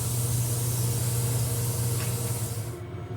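Spray gun laying paint onto a boat's interior surfaces, a steady loud continuous hiss with a low hum beneath, running unbroken for about three seconds before cutting off abruptly.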